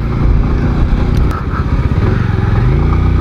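A Bajaj Avenger 220 BS6 cruiser motorcycle being ridden, its exhaust giving a loud, steady, low thrumming drone close by with a slight rise in pitch, and no voices.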